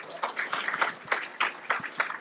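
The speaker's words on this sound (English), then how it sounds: "If we can give our panelists another round of applause." A small audience at a networking and pitch event claps for a panel, sparse, uneven handclaps arriving in loose bursts rather than a full, dense ovation.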